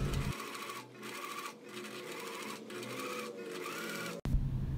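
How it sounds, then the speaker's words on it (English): A sewing machine runs a decorative stitch over a princess-seam skirt seam, a steady close mechanical whir with a few brief slowdowns, then a sharp stop near the end. "Then sew decorative stitch on top of this seam here."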